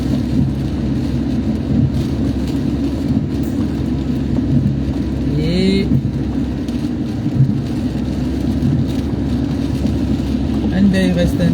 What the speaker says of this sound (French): En plus il pleut. Il faut rouler doucement, hein.